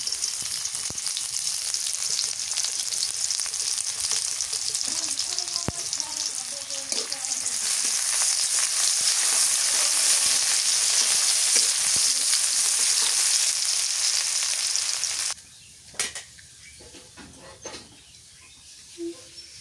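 Chopped onion sizzles and fries in hot oil with a loud, steady hiss that dominates for about fifteen seconds, then stops abruptly, leaving a few faint clicks and quiet background sounds.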